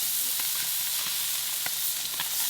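A steady, loud sizzle of crab-stuffed flounder searing in a hot pan, with faint ticks and pops from the fat running through the constant hiss.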